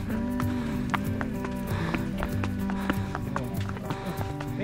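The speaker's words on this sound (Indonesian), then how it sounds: "Sekarang pakai kuda putih juga." White horse's hooves clip-clop at a steady walking pace on the road to Bromo, close and fairly clear over a constant low hum and background noise.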